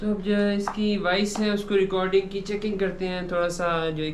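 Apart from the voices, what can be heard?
None of the usual background noises is heard.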